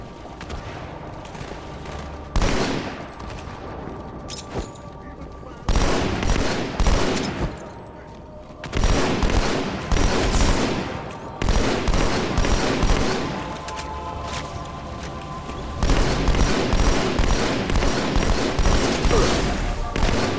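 Halo 2 gunfire on Legendary difficulty comes in loud, dense automatic bursts with sharp shots and booms. Several sustained volleys are separated by brief lulls, mixed with game effects and background music.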